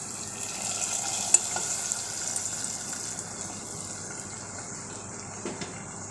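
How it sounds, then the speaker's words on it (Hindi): Hot tempering (bhagar) poured into a pot of cooked green moong dal gives a steady broad sizzle with faint liquid stirring, moderately close and continuous, with no talk. "ये दाल हमारी तैयार हो गई है और भगार भी हमारा तैयार हो गया है, तो हम इसमें भगार डाल देते हैं।"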